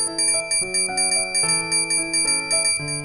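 A small bell rings loudly and continuously in a fast, steady rhythm of bright, sustained metallic tones, with no voices.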